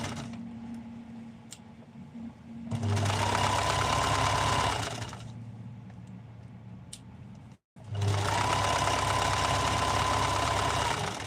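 Sewing machine stitching in two loud bursts of rapid, even motor whir and needle clatter, separated by a quieter pause and a brief stop between them.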